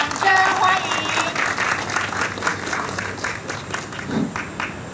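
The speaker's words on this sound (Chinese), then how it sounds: "掌声欢迎" A crowd at a hotel and university partnership plaque unveiling applauds steadily to welcome a speaker, a sustained wash of clapping with a few voices and a brief tone at the start.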